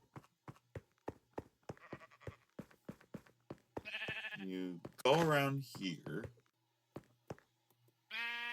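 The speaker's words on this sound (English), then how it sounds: "What are these sheep doing here?" Sheep bleat in a few short bursts during a sidekick super coaster ride, under a voice talking over a background of rhythmic track clicks.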